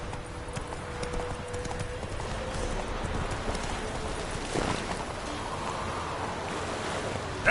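Horse hooves clip-clop at a steady riding pace in The Witcher 3 video game, with a continuous rhythmic beat over a soft ambient wash that resembles surf.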